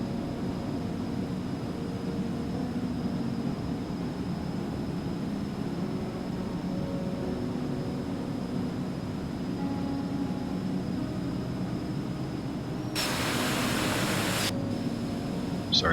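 Eclipse 550 jet engine noise heard from an outside view in the X-Plane 11 flight simulator, a steady loud broadband roar with a whining tone that swells into a harsher burst near the end, with no talking.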